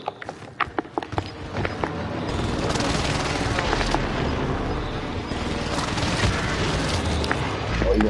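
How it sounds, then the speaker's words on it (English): Precision airstrike explosions in Call of Duty Warzone during a Rebirth Resurgence quads match, several sharp early hits followed by a sustained rumbling barrage of blasts and scattered gunfire. "Enemy precision airstrike."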